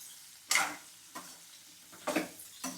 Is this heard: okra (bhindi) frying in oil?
yes